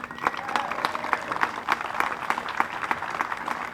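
A crowd at a park grand opening in Franklin applauds the mayor's welcome, a steady wash of clapping with scattered sharper claps and a few cheers.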